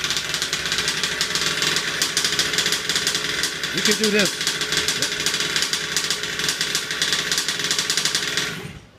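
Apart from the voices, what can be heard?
5th scale gas RC engine running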